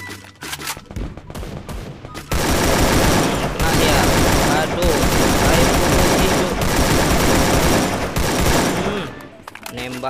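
Sustained automatic gunfire from the Free Fire battle royale game, dense rapid bursts that run loud and almost continuous for several seconds after a short quieter opening.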